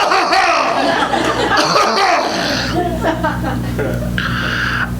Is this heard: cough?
yes